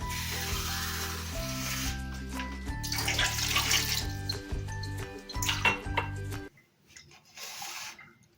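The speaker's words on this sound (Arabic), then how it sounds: "كنضيف ليها 2 كؤوس ديال الماء." Water poured from a glass into zucchini juice in a kitchen, a steady close splashing pour for several seconds, with a second pour, then an abrupt stop and near silence.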